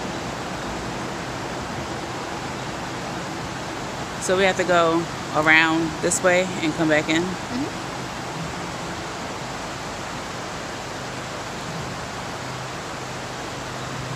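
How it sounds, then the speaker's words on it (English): A stream or waterfall on a hiking trail rushes as a constant, fairly close broadband wash throughout, while a person talks briefly over it midway. "I like the sound of the water."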